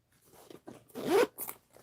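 The zipper on a sewn bag's front pocket is pulled in a few quick, close, quiet rasps, with one longer zip in the middle.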